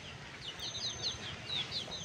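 Young country chicks peep in short, repeated calls while pecking at leftover food scraps, soft and close against a low background rumble.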